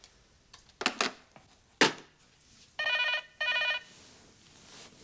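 An old landline telephone bell rings twice in short bursts, clear and fairly close, after a few scattered knocks and clatters in a quiet room.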